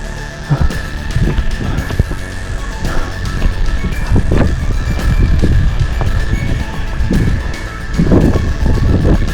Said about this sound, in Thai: ลม ลมก็แรงจริง